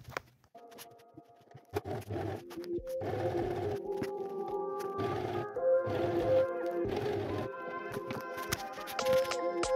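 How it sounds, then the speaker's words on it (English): A sewing machine stitching cardigan sleeves together, its motor running in short humming bursts with pauses between passes, close and moderately loud with no talking. "So now we're gonna start by sewing the sleeves together with our cardigan."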